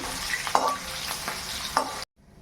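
Mustard seeds and cumin crackle and sizzle in a pan as a utensil stirs them, with a couple of brief metallic clinks before the sound cuts off abruptly.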